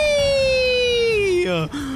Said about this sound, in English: Are those police after us? Is that what the sirens are?